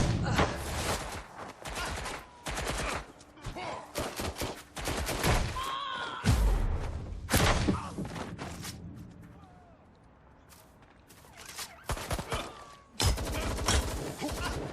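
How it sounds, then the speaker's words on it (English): Dense bursts of loud gunfire in an audio drama, with rapid volleys and single shots crackling close, broken by a short lull and then resuming, with voices speaking between the shots. "Shots fired."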